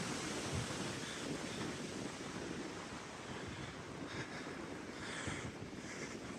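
Wind buffets a microphone outdoors on a walk near city baseball diamonds, a faint, continuous low rumble with gusty swells and no speech.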